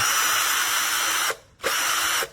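A VIWKO 20V cordless combi drill on speed setting 2 whirs at high speed in two close bursts, briefly stopping between them.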